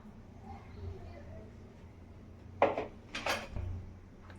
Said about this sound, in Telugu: సో ఇప్పుడు వీటన్నిటిని బాగా కలపాలి.